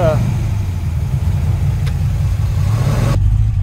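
A car engine runs close by with a low, steady throb that holds for a few seconds, then the higher noise cuts off abruptly.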